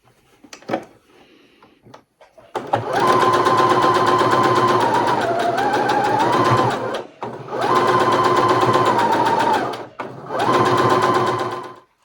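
A sewing machine stitches a fabric heart coaster for Valentine's Day, running in three steady bursts of close, loud whirring with short pauses between them.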